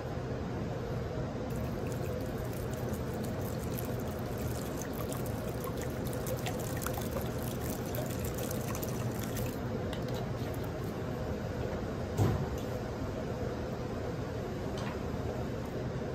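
Alkaline water pours steadily over sea moss in a kitchen, a soft continuous trickle and splash lasting throughout, fairly quiet and mostly alone.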